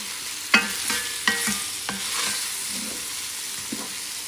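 Lamb stew ingredients sizzle in a pan while being stirred, with a soft continuous fry broken by several scraping strokes of the utensil, close and without talking.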